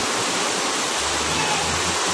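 Floodwater from a river rushes during Typhoon Enteng in Burdeos, Quezon, a loud, continuous broadband roar of churning water that stays steady throughout, with no voices over it.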